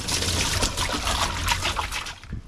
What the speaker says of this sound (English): got his water cleaned out and filling up